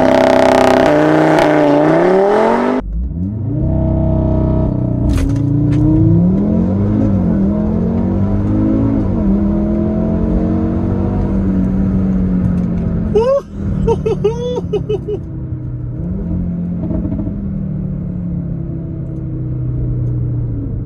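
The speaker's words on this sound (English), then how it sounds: "This is the 0 to 100 of the 2015 Audi RS3 Sportback." A 2015 Audi RS3 Sportback engine roars loudly from rest in a 0-100 acceleration run, revving up through several gears with brief dips at each shift, the strained whine climbing as it accelerates hard.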